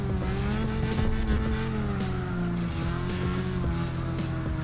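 A roughly 500-horsepower drift car in CarX Drift Racing Online holds a loud, steady engine drone on the track while its tires squeal and skid continuously throughout, up close and without talk.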